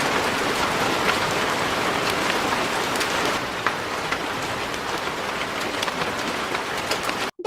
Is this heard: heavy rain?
yes